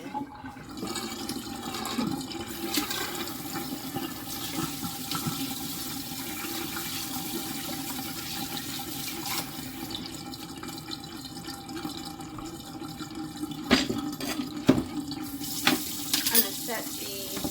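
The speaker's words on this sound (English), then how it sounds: "Wash my hands again." A kitchen water tap runs steadily while hands are washed after squeezing tomatoes for canning, a soft continuous flow with a few splashes and clatters near the end.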